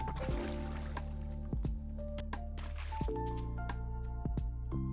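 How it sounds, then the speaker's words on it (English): Whipping cream is poured into a bowl for chocolate ganache, giving soft, close liquid squishes and drips over a steady low hum, heard alone with no talk. "Pour in 600 grams of whipping cream"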